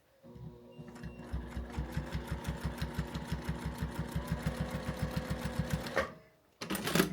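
A home sewing machine stitches through a quilt with a fast, steady mechanical whirr and rapid needle beats for about six seconds, then stops briefly and starts again.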